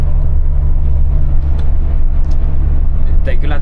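A bus engine drones at full throttle while the vehicle drives along, with a loud, steady low rumble that holds without change. The bus has broken down and pulls poorly, and a brief voice cuts in near the end.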